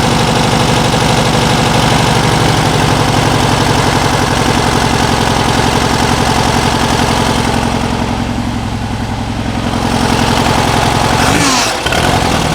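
A supercharged 1600cc air-cooled VW Karmann Ghia/Beetle engine with an AMR500 supercharger runs loud and close, a rapid pulsing idle that swells briefly near the end.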